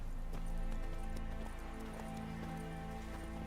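Roach the horse trotting in The Witcher 3, rapid rhythmic hoof clip-clops over a dense, continuous game soundscape, no voices heard.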